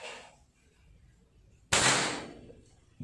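A Predator air rifle fires a single test shot with a Hercules pellet, a sharp, close crack that rings out alone after a brief faint noise and then fades quickly.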